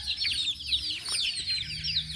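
Pet chickens, several hens and a rooster, cluck and chirp steadily at close range over a busy outdoor background, with no talking.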